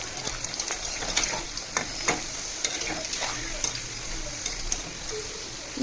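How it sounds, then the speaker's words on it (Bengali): Paratha flatbread frying in a pan at home for breakfast gives a steady close sizzle, with soft stirring and scraping clicks scattered throughout and no voices. "আমি স্টাইলে পরোটা ভাজি, ফুলকো পরোটা"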